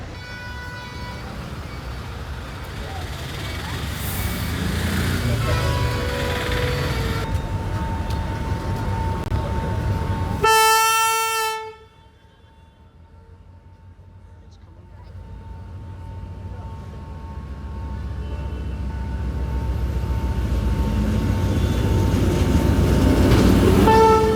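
A train rumbles past on the tracks in Kandy, Sri Lanka, loud and close, with a brief horn toot midway, then a quieter lull before the rolling rumble builds again.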